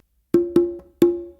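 Three sharp conga strikes, a closed slap followed by ringing open tones, part of a funky conga pattern, close and loud with a short resonant decay and no voices.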